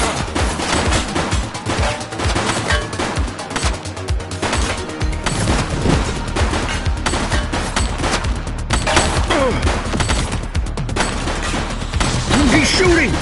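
A suspect fires in The Precinct, police game, letting off rapid volleys of gunfire in sustained bursts. The shots are loud and close amid dense action noise, with voices calling out now and then.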